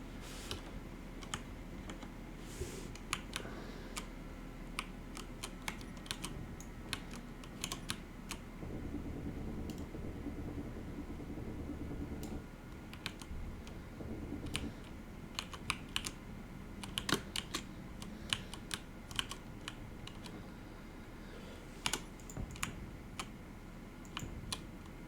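Steady computer keyboard typing during a Space Engineers survival game session on a moon base, with continuous clattering keystrokes and occasional sharper clicks over a low background hum for the whole stretch.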